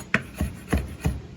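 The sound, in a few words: knife chopping fresh rosemary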